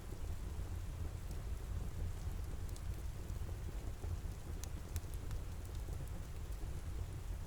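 Rain falls steadily through a rainy evening, a soft constant wash with a deep rumbling low end, faint scattered drips on top, no voices.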